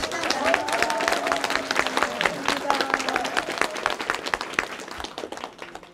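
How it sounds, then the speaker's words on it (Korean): Audience applause at a seminar in Daejeon, a loud, busy patter of many hands clapping nearby, sustained throughout with voices audible among the clapping before it gradually thins toward the end. "여러분들을 위해서 박수 한번 크게 치고 시작합니다"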